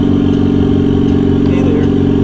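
Loud turbocharged Honda Civic with an R18 engine running close by, a steady low rumbling drone with a dense harmonic buzz throughout and faint voices underneath.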